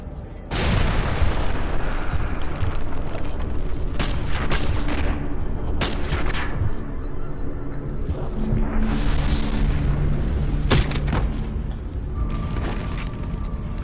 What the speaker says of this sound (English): They started the bombardment early.